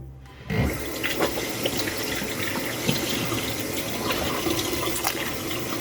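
A tap starts running after a brief quiet and pours steadily into a sink while someone rinses their face by hand, with small splashes and drips over the continuous flow.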